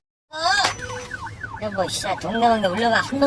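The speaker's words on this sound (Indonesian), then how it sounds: "sirene polisi yang dipasang pada mobilnya itu bahkan tidak dihiraukan pengendara lain" A police car siren wails, sweeping up and down in pitch, loud and close, with traffic rumble underneath.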